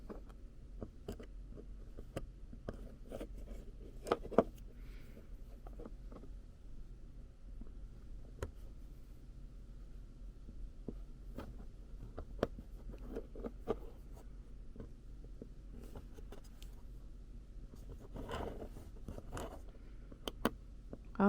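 An X-Acto knife trims the inner mouth part of a Blythe doll with quiet, close scraping and scratching strokes that come in irregular bursts over the whole stretch, with no talking.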